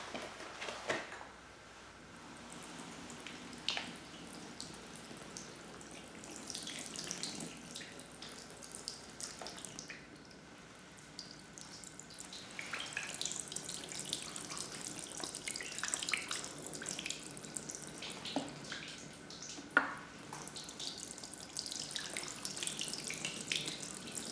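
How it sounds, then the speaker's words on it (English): Water from a watering can pours steadily over car windows outdoors, a soft continuous splashing and trickling with scattered drips, fairly quiet and alone without talk. "I'm going to switch over to the watering can."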